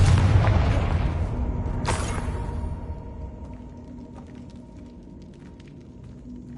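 A Confringo blasting spell explodes in the video game Hogwarts Legacy: a heavy boom opens, a second blast follows about two seconds later, and then a rumbling tail fades out with no voices.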